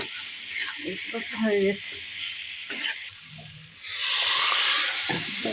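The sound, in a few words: potatoes frying in a pan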